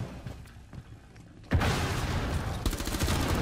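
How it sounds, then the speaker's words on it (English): Heavy gunfire from Rainbow Six Siege shoots into a barricade. Quiet game ambience gives way after about a second and a half to a sustained, loud barrage of rapid shots that continues to the end. "I'm fucking shooting the barricade and he just walks up into me."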